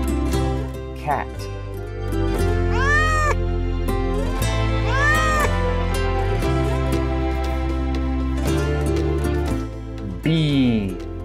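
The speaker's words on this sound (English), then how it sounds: "Cat." A cat meows several times, drawn-out rising and falling cries, close and clear over a steady musical background.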